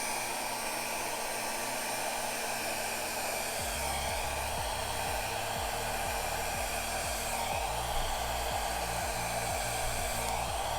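A hair dryer blows across freshly poured acrylic paint on a panel, a loud, steady whooshing roar that holds for the whole stretch, its low motor hum shifting and pulsing partway through.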